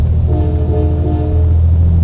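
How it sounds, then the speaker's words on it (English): A truck horn sounds in American Truck Simulator, a loud, sustained low tonal blare over the rumble of the engine, with no talking. "Oh, we'll give him a little honk as we go by."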